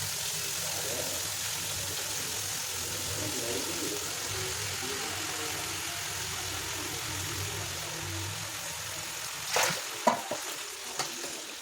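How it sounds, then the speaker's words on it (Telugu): Ginger garlic paste and chopped vegetables fry in a pan with a steady, continuous sizzle throughout, joined near the end by a few louder scrapes and clatters of stirring. "అల్లం వెల్లుల్లి పేస్ట్ కొంచెం వేసుకొని వేయించుకోండి"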